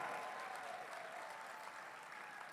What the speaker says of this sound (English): let's give some applause to them, people who are not Jewish